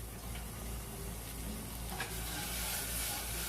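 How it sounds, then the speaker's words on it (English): Garlic toasting in a pan while cooking stuffed cabbage rolls, a soft continuous sizzle with faint stirring scrapes, close but quiet, no talking. "See, toasting up the garlic."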